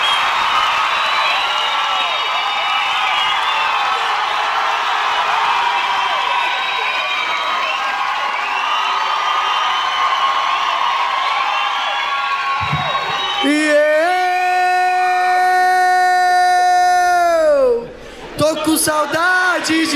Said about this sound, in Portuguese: aplauso para receber Thiago Ventura